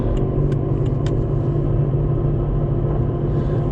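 A garbage truck rolls past in the morning, giving a loud, steady low engine rumble close by, with a few faint clinks above it.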